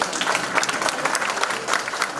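An audience at a community event in Mulund claps loudly and steadily, a dense burst of applause that runs the whole short stretch with no voices over it.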